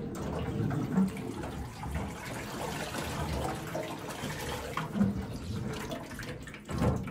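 Water drains steadily from wrung laundry into a wash bin in an old off-grid Alaska cabin, a continuous close splashing trickle with no talk.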